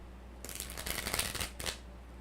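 A deck of astrology reading cards is riffled and shuffled close by, giving a quiet flurry of crisp fluttering snaps lasting about a second, then one short final riffle, with no talking.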